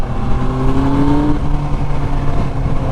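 A 2001 Yamaha R1 sport motorcycle engine pulls hard from low revs on twisty back roads, its steady loud drone climbing in pitch as it accelerates under wind rush, heard up close from the rider's position.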